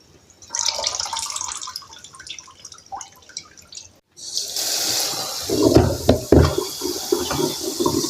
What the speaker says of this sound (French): je vais les mettre là-dedans pour les rincer